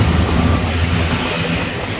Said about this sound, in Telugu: సో బ్యూటిఫుల్ రాజమండ్రి సిటీ లోపలికి అయితే ట్రైన్ ఎంటర్ అయిపోతుంది.